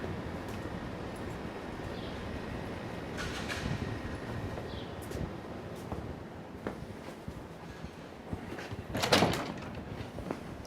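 A car door shuts once, a single sharp thud near the end, heard outdoors over a steady rumbling background.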